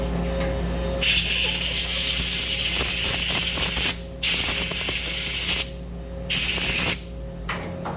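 Compressed air blown through the upper diamond guide retaining plate of a Mitsubishi MV1200R wire EDM machine: four loud hissing bursts of about one to three seconds each, separated by short pauses over a low machine hum.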